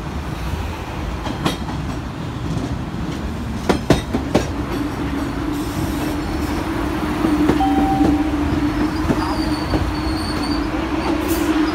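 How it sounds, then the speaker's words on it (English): An MBTA Red Line subway train arrives at a station, steady rolling rumble with clacking wheel joints and a thin metallic wheel squeal rising near the end, loud and continuous without talk. "the next red line train to Alewife is now arriving."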